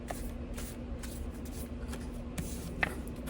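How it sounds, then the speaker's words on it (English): Tarot cards are shuffled close up in a soft, continuous riffle and slide with a few light taps, quiet and steady, no one speaking. "I'll just start shuffling and see what comes out for spirit."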